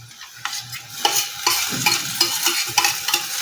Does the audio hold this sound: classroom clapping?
no